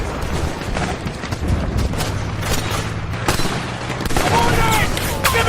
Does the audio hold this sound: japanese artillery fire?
yes